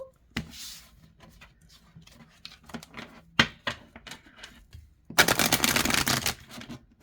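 Oracle cards are shuffled by hand up close, with scattered light riffles and taps followed by a loud, dense burst of rapid card shuffling near the end.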